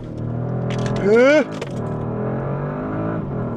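A 2025 Bentley Flying Spur launches hard under launch control, its engine surging into a loud rising rev that settles into a steady roar, with someone talking over it.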